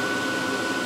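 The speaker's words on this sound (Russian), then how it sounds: "Вимкнути вентилятор." Steady whirring drone of the fan on an EKOT 20 kW pyrolysis wood-fired boiler, a constant broadband hum with a faint tonal whine, running alone at close range.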